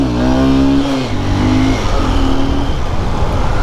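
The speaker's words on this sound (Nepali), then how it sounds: "एउटा ह्विली हानिदिउँ न कत्तिको उठ्छ रहेछ अझ बाइक" A motorbike with a newly tightened, stiff clutch revs hard during a wheelie attempt: a loud, close engine climbs in pitch, drops sharply, then keeps roaring unevenly at mid revs.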